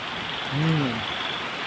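Heavy rain pours during a storm, a steady, dense hiss filling the scene, with a brief rising-and-falling tonal call surfacing for a moment in the middle.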